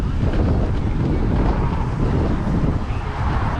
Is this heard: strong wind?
yes